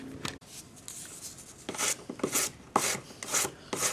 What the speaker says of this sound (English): use your 400 grade paper on your sanding stick to tidy up your solder